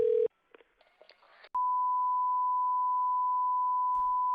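Telephone call to a pawn shop: a short dial beep, faint keypad clicks, then a single long steady ringback tone sounding alone.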